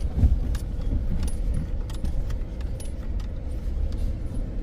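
A vehicle drives along a narrow washboard gravel road, giving a steady close rumble with rattling and clattering bursts over the corrugations throughout, and no voices.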